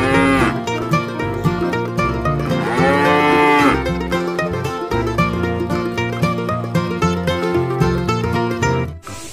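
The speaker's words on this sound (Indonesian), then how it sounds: "ada kerbau teman-teman" A buffalo in Jurassic World Evolution 2 lets out long, loud, deep lowing moos that swell and bend in pitch, layered over game music and effects with no talk.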